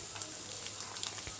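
Soft, steady sizzle of a chopped large onion frying in a pan, quiet and close, with faint crackles and no talking.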